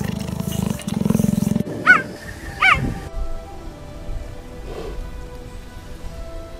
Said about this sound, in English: In a serious agonistic or combative situation, the cheetah usually moans, growls, or hisses.